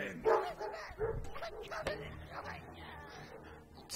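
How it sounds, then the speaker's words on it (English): German Shepherd dogs bark and yip in short bursts close by during a game of Smite, with a little whimpering and some background game noise. "Those are my dogs."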